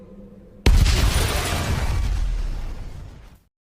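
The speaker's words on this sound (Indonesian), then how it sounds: "tiba-tiba mobil itu meledak, ketika orang yang di dalamnya hendak keluar dari mobilnya" A car explodes in a film scene with a sudden loud blast, followed by a roaring, crackling rush that fades out after about three seconds.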